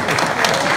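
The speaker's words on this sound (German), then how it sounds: "Applaus." Audience at an award ceremony claps briskly right after a third-place result is announced, a short, loud burst of dense applause.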